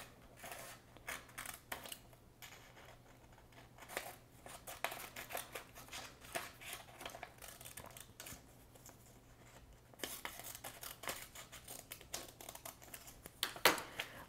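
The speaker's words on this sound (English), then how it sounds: "We're going to cut on the solid black line so that we're able to flip the strips up" Scissors snip along solid lines to cut paper strips into flaps, a run of faint, close, irregular crisp cuts with brief pauses between bursts.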